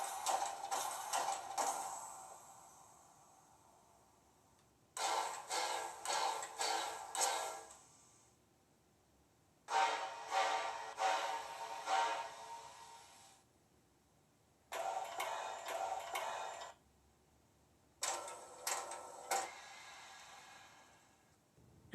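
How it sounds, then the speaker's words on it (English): Locomotive air pump effect from a TCS WOWSound model-train decoder, played as five separate bursts of rapid rhythmic chuffing and hissing, each lasting a couple of seconds with quiet gaps between. "Let's move on to the air pump and see how that sounds"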